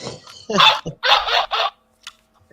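A dog snarling and growling during an attack in a film, several harsh, close bursts in quick succession, then quiet.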